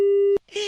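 Telephone disconnect tone after a call is hung up: a steady, loud, pure beep breaks off sharply, and after a brief gap a voice comes in.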